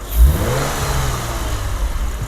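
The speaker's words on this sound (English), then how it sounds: "You can definitely hear it sucking the air." A Lexus RC 350 F-Sport engine with a Takeda cold air intake revs briefly, with a low growl and a rushing, breathy whoosh of intake air over a steady rumble.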